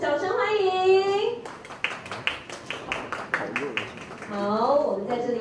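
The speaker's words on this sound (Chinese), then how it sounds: "掌声欢迎" Audience clapping breaks out in a quick burst of scattered, rhythmic claps at a De Beers Lotus high-jewelry exhibition event, with a host talking before and after it.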